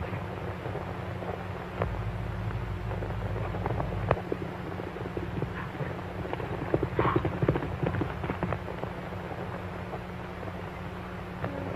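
Horses ridden at an easy pace in an old western film, hooves clip-clopping steadily in an irregular rhythm over a constant low rumble and hiss, with no talk.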